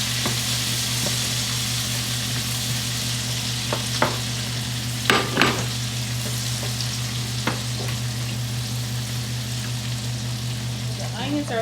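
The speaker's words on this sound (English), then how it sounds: "Onions are sauteing," Onions saute in butter in a pan at home, giving a loud, even sizzle with a constant hum behind it and a few clacks of a utensil near the middle.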